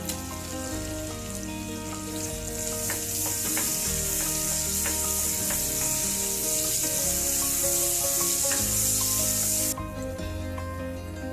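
Cinnamon, cloves and a bay leaf sizzle steadily in hot butter, with occasional scraping stirs; the bright hiss drops away abruptly near the end.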